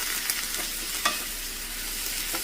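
Payar (green beans) stir-fry with onion and crushed chilli stirred in a pan over high flame, a steady broadband sizzle with a few sharp spatula scrapes and clicks.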